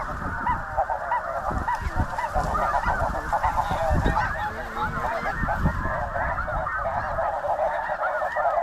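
A huge flock of snow geese honks continuously during a hunt, a dense, loud, overlapping chorus of calls near and far with wind in the background and no speech.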